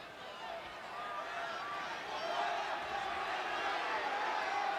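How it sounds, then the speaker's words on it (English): A large wrestling arena crowd at Maple Leaf Gardens murmurs and stirs steadily, a dense distant roar with faint voices and scattered calls, swelling slightly partway through. "the tremendous throng in attendance here at the Maple Leaf Gardens, waiting for the action to really get underway"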